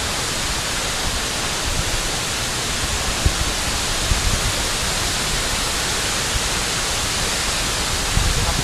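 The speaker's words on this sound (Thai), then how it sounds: "เสียงน้ำตกมันดัง" A waterfall roars loudly and steadily, a dense rushing wash of water filling the whole clip.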